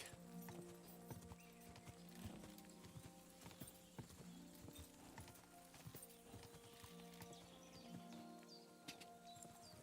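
Horse hooves clip-clopping in the video game Kingdom Come: Deliverance II, a quick continuous rhythm of close hoof strikes with occasional snorts over a busy background.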